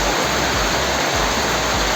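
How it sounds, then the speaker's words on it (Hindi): Heavy rain mixed with small hailstones pours down over a mountain valley in Uttarakhand, a dense, loud, unbroken hiss of falling water close by. "पूरी वैली में बारिश हो रही है बहुत तगड़ी।"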